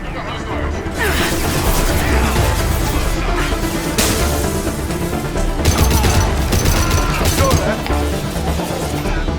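Gunfire from Blue Suns mercenaries and Vorcha in Mass Effect 2, dense sustained shooting with crashes and booms in a chaotic battle mix, with a voice talking over it.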